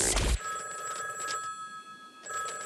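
A telephone bell in the cartoon Duckman rings with a bright, sustained electronic trill after a brief burst of noise, fading in the middle and swelling again at the end.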